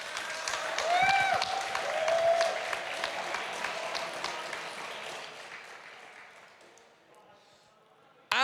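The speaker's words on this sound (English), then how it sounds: "If we could please have a massive round of applause for our Utrecht special event runner-up." A crowd at an event final in Utrecht applauds a runner-up steadily, clapping loud at first and gradually thinning and fading out toward the end.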